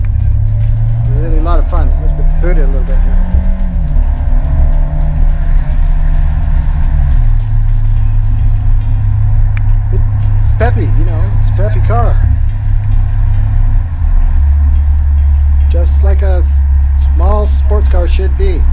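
Fiat 124 Spider driven with the top down, its engine droning loudly and rising in pitch as it accelerates, with steady road and wind rumble and someone talking over it at intervals.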